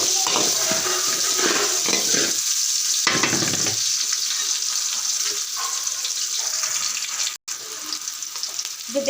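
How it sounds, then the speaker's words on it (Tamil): Garlic, curry leaves, green chilli and onion sautéing in a pan for homemade pasta, a steady close sizzle and fry with the scrape of stirring running throughout, no voices. "நல்லா வதக்கிக்கிறேன்."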